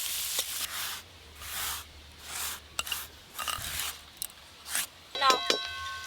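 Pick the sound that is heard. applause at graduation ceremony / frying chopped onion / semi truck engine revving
frying chopped onion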